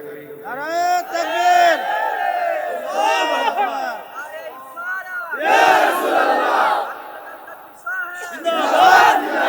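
A large crowd at an Islamic waz gathering loudly chants the takbir in unison, several long swelling shouts in succession, full-throated and close.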